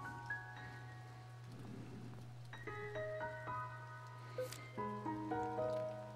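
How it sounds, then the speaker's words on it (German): Soft, steady rain patters through a scene in the video game To the Moon, with gentle piano-like melody notes and a constant low hum over it, quiet and with no talking. "Es regnet draußen."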